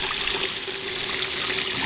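Water runs steadily into a container during an automatic U-siphon test, a dense continuous splashing and trickling hiss that stays loud and even with no pauses and no voices.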